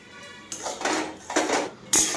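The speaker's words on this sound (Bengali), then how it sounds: "আমি এরকম খুন্তি দিয়ে এক নাগাড়ে নেড়ে নেড়ে সুজিটাকে ঝরঝরে করে নিচ্ছি" A spatula stirs semolina halwa in a pan over a medium flame, giving repeated scraping, rustling strokes in short bursts that recur in a steady rhythm, close and moderately loud.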